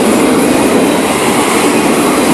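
An FEC freight train rolling past close by, a loud steady roar of wheels and railcars on the track with continuous rumble and clatter, no talking.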